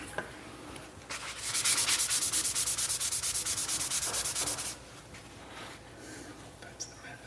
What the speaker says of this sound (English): They just wipe it on and wipe it off